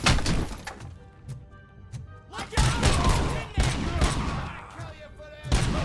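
Gunfire and impacts in the RoboCop: Rogue City video game, loud shots and shattering crashes in irregular bursts, mixed with sustained battle noise.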